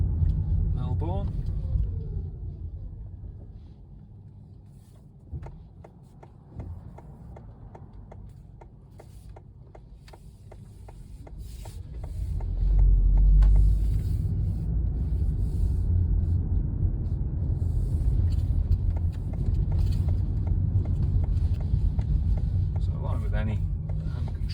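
A car with a Guidosimplex wireless trigger throttle hand control drives around Melbourne: a steady low engine and road rumble that swells louder partway through and then holds, with a voice talking over it.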